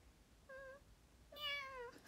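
A person imitates a cat's meow with two short voiced mews, a faint one then a louder, longer one, close to the mic with no other talk.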